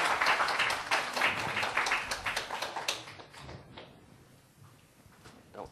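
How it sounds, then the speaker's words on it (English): Audience applause greets a pair of guests called forward at a live quiz-style event, a dense burst of clapping that fades after about three seconds into quieter room noise with a few scattered claps. "give them a round of applause"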